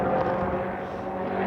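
A Formula One race airplane drones loudly and steadily overhead, its propeller engine sound continuous and unbroken throughout.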